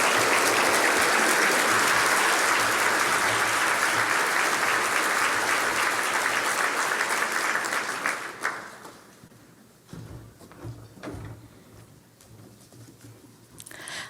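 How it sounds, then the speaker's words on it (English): A Match Day crowd at a medical school ceremony breaks into loud, dense applause for two newly named doctors. The clapping sustains for about eight seconds, then fades to silence, leaving a few scattered soft sounds. "we're going to give them a round of applause"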